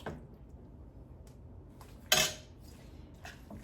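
Spaghetti bolognese being tossed in a pan or bowl, quiet scraping and clinking of a utensil against cookware with one louder clatter midway, no talking.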